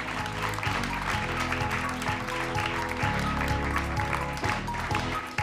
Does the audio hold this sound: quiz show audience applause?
yes